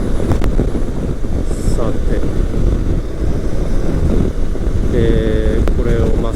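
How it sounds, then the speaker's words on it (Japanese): Loud, constant wind buffeting roars over a Honda CB500X motorcycle cruising on a Dutch highway, with a low mechanical engine hum underneath and a rider briefly saying a word. "風がヒューヒューバンバンいってるのと、あとはこの、お腹の下のあたりでのエンジンのメカノイズ"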